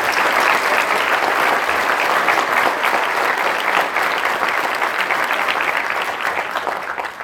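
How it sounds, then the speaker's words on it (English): An audience at a high school Veterans Day ceremony claps for the band, chorus and color guard, giving steady, dense applause that fills the hall for several seconds and eases slightly near the end. "Can you guys please give them a round of applause?"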